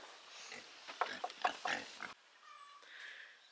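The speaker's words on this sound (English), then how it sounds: "I gotta say, we got a pretty nice group of pigs this year." A group of farm pigs oinking and grunting in short irregular bursts close by during the first two seconds, then fading to quiet outdoor background with faint bird chirps.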